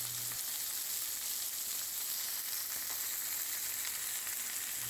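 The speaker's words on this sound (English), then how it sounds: "Got our boneless chicken breast cooking on the skillets. And would you listen to that sizzle?" Boneless chicken breast sizzles steadily in a skillet, a continuous even hiss of frying that holds level throughout with no voices over it.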